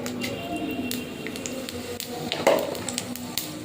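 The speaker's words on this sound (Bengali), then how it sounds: "কড়াইতে তেল দিয়ে দিয়েছি ফোড়নে দিয়ে দেবো পাঁচ ফোড়ন" Panch phoron spices temper in hot oil in a kadhai, a quiet, close crackling sizzle with a faint spray-like hiss and a slightly louder spit near the end.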